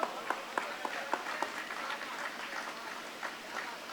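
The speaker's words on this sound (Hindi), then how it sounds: "थोड़ा सा ताली मिलती रहनी चाहिए" Audience clapping at a youth poetry recital (kavi sammelan) in Mungeli, a short round of scattered, fairly faint hand claps that quickly thins out into light murmuring.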